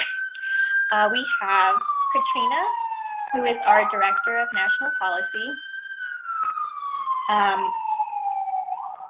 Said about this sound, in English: sorry for the sirens in the back